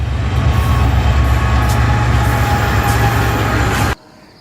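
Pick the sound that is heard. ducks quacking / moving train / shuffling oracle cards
moving train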